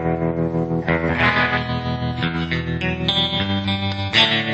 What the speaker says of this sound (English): Some nice tremolo, clean sounds.